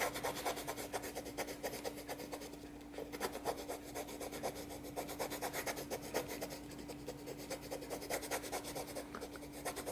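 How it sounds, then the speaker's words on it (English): Bone folder burnishing Filmoplast P repair tape over a torn paper page, a steady close rubbing and rasping with short repeated strokes, alone with no talk. "Then you got to burnish it in really well with your bone folder."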